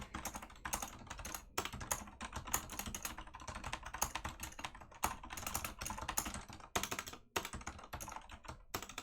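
Rapid typing on a computer keyboard during a coding session, a steady stream of close, crisp key clicks with brief pauses and no talking.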